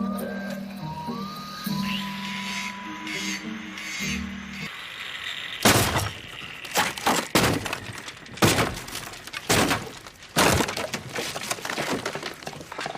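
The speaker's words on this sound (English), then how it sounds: "The episode opens with Wilfred quite literally smashing through Ryan's fence with an axe." An axe smashes through a wooden backyard fence in a TV comedy scene, with a rapid series of loud splintering, cracking crashes after a few seconds of quieter background sound.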